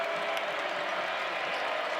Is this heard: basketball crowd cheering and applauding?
yes